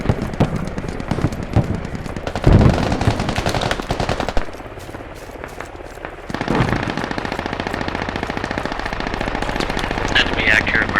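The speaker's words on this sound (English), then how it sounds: "There's already a lot of gunfire here" Automatic machine-gun fire in the military shooter game Squad, dense rattling bursts close by that keep going, with a brief quieter lull in the middle before the shooting picks up again.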